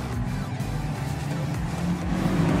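Super sedan race cars charging around a dirt oval at Gympie Speedway, a dense, loud roar of several engines with tyre noise, continuous and close throughout.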